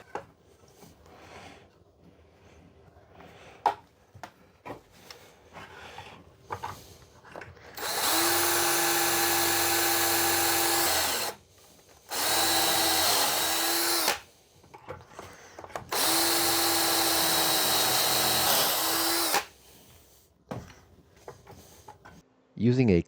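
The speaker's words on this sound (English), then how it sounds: "I will also be using a pocket hole jig to make some pocket holes on the outsides" Power drill boring pocket holes in wood through a pocket hole jig while framing a bus bathroom: three loud sustained whirring bursts of a few seconds each, separated by brief pauses, with quieter handling clicks before them.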